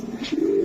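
A racer pigeon gives a short, low coo that swells and holds steady, close and fairly loud, alone.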